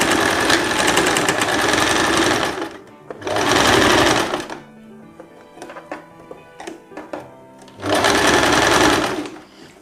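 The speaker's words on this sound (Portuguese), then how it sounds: "Faz mais de 2 costuras, faz uma costura de reforço, que é para ele depois não estourar" Close, loud runs of a sewing machine stitching a reinforcement seam on a dress, three sustained bursts with quieter handling clicks and rustles between them.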